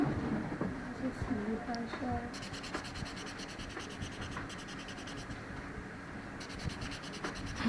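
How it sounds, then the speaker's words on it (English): A cuticle buffer rubs back and forth over an oiled fingernail cuticle during a manicure, giving close, soft scratchy strokes in a steady rhythm. "I'm going to look for the smoothest part of the cuticle buffer, and I'm going to smooth it down with the oil just to give me a sheen."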